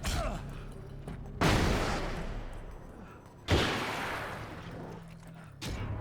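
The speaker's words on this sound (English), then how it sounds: "Oh, flashbang." Flashbang grenade going off in the video game Alan Wake, a few heavy booming blasts, each with a sharp onset fading into a long rumbling decay, loud and close.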